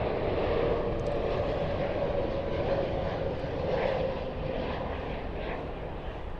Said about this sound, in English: Airbus A320neo.